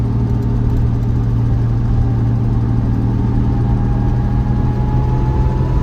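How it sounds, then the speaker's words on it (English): A 1967 Jaguar E-type engine hums steadily while the car climbs a steep road in third gear, a loud, even, smooth drone with a constant low tone throughout and no talking. "Engine's really nicely balanced."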